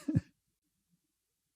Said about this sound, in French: je vais aller me racler la gorge